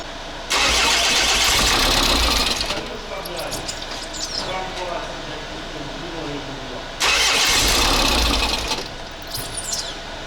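A Renault Master M9T bi-turbo diesel engine cranks and catches twice in a workshop, each loud start settling into a rough idle before the second burst, with people talking nearby.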